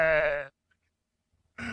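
A person imitates a Minecraft sheep with a short nasal bleat, followed by silence and the start of a second bleat-like sound.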